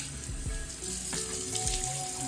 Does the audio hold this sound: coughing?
no